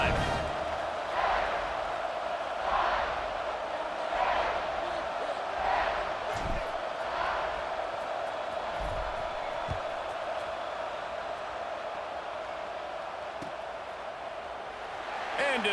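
Steady roar of a football stadium crowd at an Indiana vs Miami playoff game during kickoff, a continuous broad wash of cheering and shouting with rhythmic swells, loud and sustained throughout.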